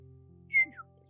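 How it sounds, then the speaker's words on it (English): Someone whistles indoors a short two-note phrase, rising to a bright note and then sliding down, quick and fairly faint over a low steady hum. "someone started whistling and set me off for a second"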